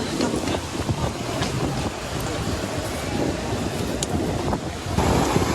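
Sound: stormy sea surf at Arcadia beach, Odesa

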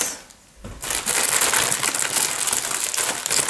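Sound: scissors cutting plastic packaging

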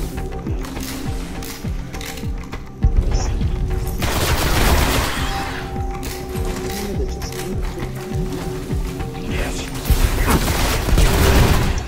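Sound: gunfire and explosion in video game Destiny

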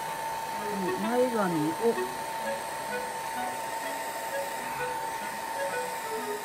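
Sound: hair dryer drying a doll's wig hair

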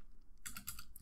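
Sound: typing on a computer keyboard

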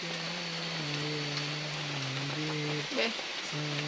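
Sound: rain falling on a tree house

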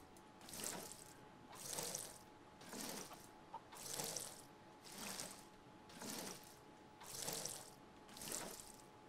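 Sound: watering crops in the video game Fae Farm

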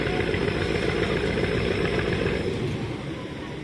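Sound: car engine running, putting in reverse gear

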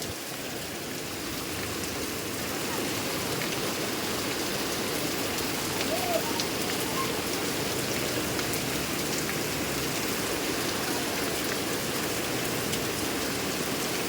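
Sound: heavy rain falling in Mumbai

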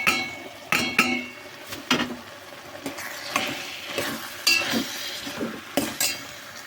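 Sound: stirring curry in a pan

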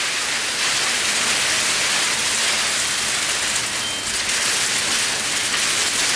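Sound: rain

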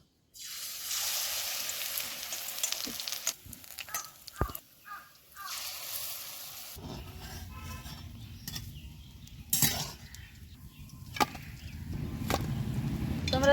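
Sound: besan-coated chops frying in hot oil

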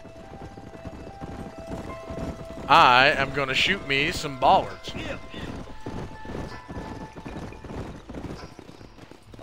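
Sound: horses trotting, from video game Red Dead Redemption 2

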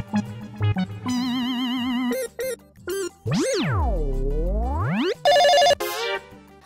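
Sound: telephone ringing

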